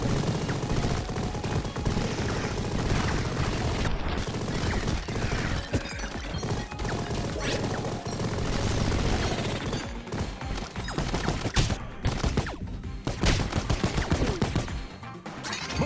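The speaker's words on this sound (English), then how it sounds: "Machine gun." Machine gun fire in the game Mighty Goose keeps up dense, loud rapid shots throughout, mixed with crashing impacts and smashing debris, with no pause in the gunfire.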